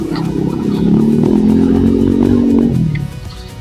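A motorcycle fitted with a cheap budget exhaust pipe idles and revs loudly and close, a steady droning engine note with a tinny metallic rattle, easing off near the end.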